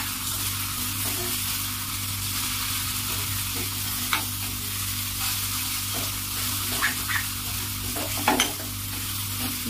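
Masala and tomato fry steadily in a pan for a spiced brinjal tadka, a constant sizzle broken by a few soft scraping stirs, close and alone with no voices.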